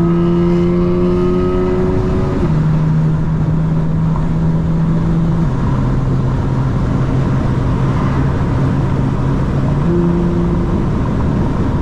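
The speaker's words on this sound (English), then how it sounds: "Just a little bit to get the outside exhaust noise in." A 2025 BMW M4 Competition xDrive with satin-wrapped body and new wing sends steady, loud exhaust drone through a slightly open window while driving on a highway, with engine pitch stepping down through gear changes and no talk.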